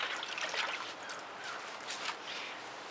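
Hands being rinsed under running tap water after acrylic paint pouring, a steady close splashing trickle that shifts slightly as the hands move, with no talk.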